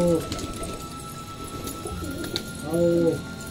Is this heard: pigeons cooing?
yes